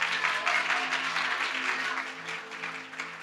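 A church congregation at a Sunday service applauds with dense, continuous clapping that is loud at first and slowly fades over a few seconds, with no voices over it.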